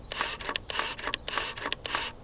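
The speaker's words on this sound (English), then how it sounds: "if you can hear that, it has a rapid shooting mode" An empty full-auto 35mm camera fitted with a 500mm telephoto lens fires its shutter in rapid continuous mode, giving loud close mechanical bursts of clacks and whirring film advance repeating about every half second.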